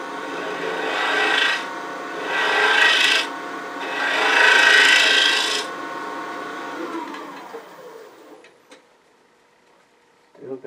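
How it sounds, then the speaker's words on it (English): Thin negative rake scraper working across spinning wood on a lathe, a rasping scrape in three sustained passes with short pauses between, then fading to quiet near the end. "use this thin negative rake scraper since it's not going very deep"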